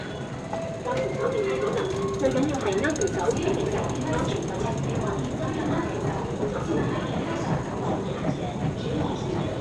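Ride aboard a train, a steady loud rumble and rattle of the carriage running continuously while people talk over it.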